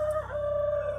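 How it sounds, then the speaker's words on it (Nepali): A rooster crows once, close and loud, with a sustained clear call that dips briefly and then holds steady to the end, heard alone against a faint background. "कस्तो भाले पनि यही टाइममा बासिनु परेको है"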